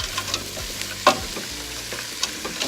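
A frozen vegetable mix goes into a cooking pot with a low sizzle, a sharp clatter of a spoon, and a few light stirring scrapes across the short moment.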